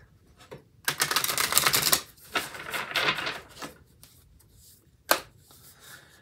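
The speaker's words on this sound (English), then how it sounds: "So let's get the two cards from the Animal Oracle." Animal Oracle cards being shuffled by hand, with a long riffling burst of flicking card edges followed by shorter bursts and a final sharp snap, close and fairly quiet.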